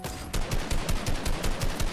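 Rapid gunfire from a video game battle in an OG memes-only ranked tournament, a steady run of loud shots that begins after a brief quiet moment and keeps going without talk.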